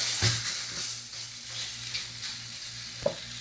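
An egg naan paratha sizzles steadily in a pan with a bright continuous hiss, with a soft scrape and a small knock near the end as it is turned.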